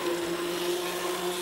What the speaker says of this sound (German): diese Mixer da wirklich eine der tollsten Erfindungen für die Küche.